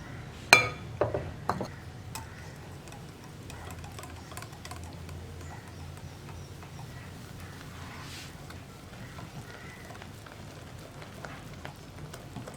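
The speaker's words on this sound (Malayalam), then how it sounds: "ഈ ഒരു വിസ്ക് യൂസ് ചെയ്തിട്ടാണെങ്കിൽ നമുക്ക് വളരെ ഈസി ആയിട്ട് മിക്സ് ചെയ്തെടുക്കാം" A wire whisk mixes sifted flour into cake batter in a bowl, starting with a few sharp clinks against the side and settling into soft, irregular ticking and tapping, quiet with no voices.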